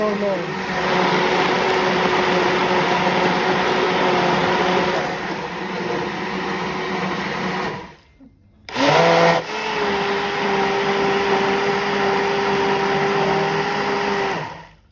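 A blender grinds a mango shake made with milk in a loud, steady whir. The motor cuts out briefly near the middle, then spins back up and runs on evenly.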